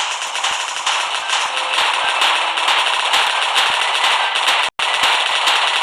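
Dense, rapid crackling blasts from a bomb exploding in a video game fill the whole stretch, loud and continuous like heavy gunfire or explosions, with one brief cut near the end.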